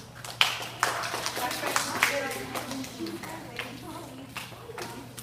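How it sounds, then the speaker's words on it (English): Children at a UMD summer program clap for themselves, a few sharp claps at the start thinning into scattered, uneven clapping, with talking voices running over it throughout. "Give yourselves a big round of applause, please"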